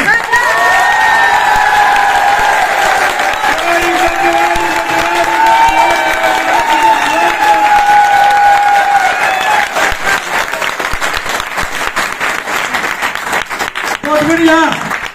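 An audience at a business seminar claps in sustained, even applause that fills the whole stretch, with voices and tonal sounds rising above the clapping.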